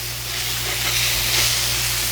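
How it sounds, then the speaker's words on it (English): Burgers sizzle on a Blackstone griddle, a loud steady frying hiss close up with no pauses, heard alone. "Oh yeah, getting a good sear."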